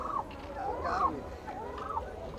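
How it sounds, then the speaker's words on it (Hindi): A turkey in a small cage at a bird market at the Muktsar Maghi Mela fair gobbles in two loud, warbling rolls close by, with faint background noise. "ये टर्की है इधर"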